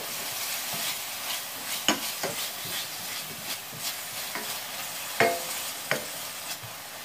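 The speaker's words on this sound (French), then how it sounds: "Je vais rajouter de l'ail. Et on peut revenir un petit peu." Garlic stirred and sautéing in a hot pan for a chicken quiche, with a steady soft sizzle under scattered scraping stirs and a few sharp utensil clicks against the pan.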